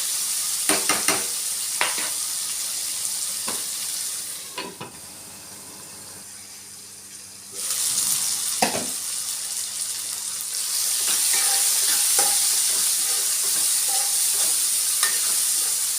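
Two medium tomatoes, chopped small, sizzle and hiss in a pan for appam egg curry, with stirring clatter at first, a quieter covered stretch, then a louder steady sizzle, no voices.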